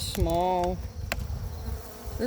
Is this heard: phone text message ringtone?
no